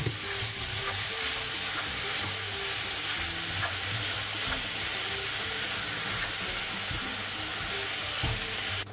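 Ground meat sizzles and crackles steadily in a hot pan, a dense continuous frying hiss with occasional pops and a faint low hum underneath.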